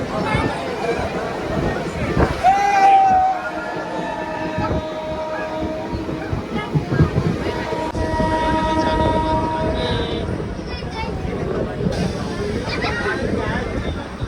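Continuous rumble and rattle of a passenger train rolling on rails on the new Beed–Ahilyanagar line in India, loud and close, with drawn-out tonal horn and squeal notes over it.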